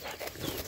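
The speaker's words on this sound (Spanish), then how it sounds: "Es un perro muy noble el Güero, amigos." A cattle dog kept with calves pants and whimpers softly nearby, a brief faint breathy sound.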